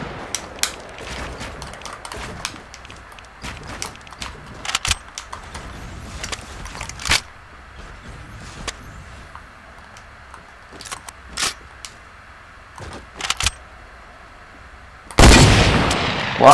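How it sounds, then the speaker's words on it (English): Sharp sniper and other gunshots in Fortnite Battle Royale, a series of loud cracks scattered through a busy game mix, with a heavy burst near the end. "I'm getting sniped from someone."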